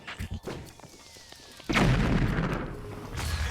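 A bomb blast destroys an Octorok in Zelda: Breath of the Wild: after some scattered small thumps, a loud broadband explosion bursts in and leaves a sustained roaring rumble that lingers to the end.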